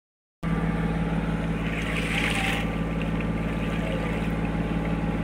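An electric boat moving on water near Somnath, its steady motor drone and hum running continuously after a brief silent start, with splashing water and a burst of wash in the middle, no talking.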